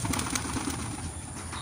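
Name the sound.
racing pigeons flying and landing, wings flapping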